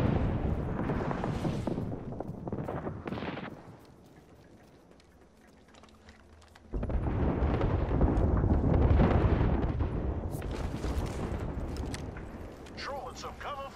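A frag grenade goes off in Apex Legends, a broad rumbling blast that swells loudly after a quieter lull, with battle noise and a voice heard around it.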